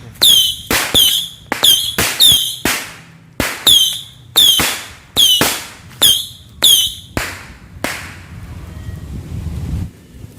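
Firecrackers go off outdoors in the late afternoon in Indonesia, about a dozen loud, sharp bangs in quick irregular succession, each with a short echoing tail, followed by wind noise.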